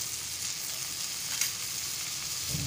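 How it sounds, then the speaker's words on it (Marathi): Toki fish fries Malvani style in oil in a pan, giving off a soft, steady sizzle that stays fairly quiet and even throughout, with no talking. "आता टोकीची मच्छी आता फ्राय करायला ठेवलेली आहे"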